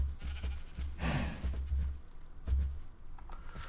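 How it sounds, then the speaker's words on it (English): Sheep bleat in modded Minecraft 1.12 (Better With Mods), short nasal calls repeating over steady keyboard typing and mouse clicks. "now we have sheep and stuff laying around here"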